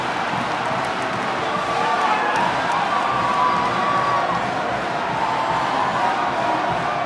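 A supportive home crowd of Cal Bears fans roars and cheers continuously as they flood the basketball court after a men's win over Oregon, a dense, steady wall of shouting voices with no pause.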